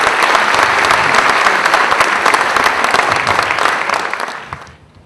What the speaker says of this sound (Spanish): un aplauso para el profesor Lucio